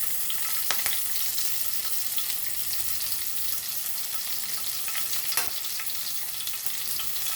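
Curry leaves crackle and hiss in hot oil as part of a Goan Bombay duck fry. The bright sizzle is steady and fairly faint, with a couple of sharper pops and utensil clicks.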